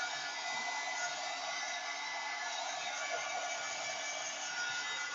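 A hair dryer blows over an art journal page, a steady, even whooshing hum at moderate loudness that holds unchanged throughout with no talk.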